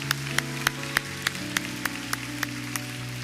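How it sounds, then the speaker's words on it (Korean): A church youth congregation claps in a sparse, steady rhythm, with single sharp claps repeating about every third of a second over soft sustained music in a room. "박수 한번 칠까요? 서로를 위해서."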